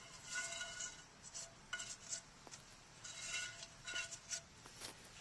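Candied pecans being moved onto a parchment-lined baking sheet, with light clattering taps and scraping in irregular bursts. The sounds are faint and close, with no talking.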